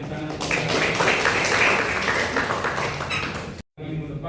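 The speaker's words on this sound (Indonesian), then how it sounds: "Boleh berikan tepuk tangan" Students in a vocational school classroom applauding together, a dense burst of clapping that swells and holds for about three seconds before cutting off abruptly.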